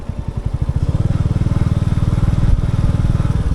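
A motorcycle engine thrums loudly and steadily at close range on a mountain road from Lachung to Zero Point in North Sikkim, its rapid pulsing exhaust beat constant throughout the ride.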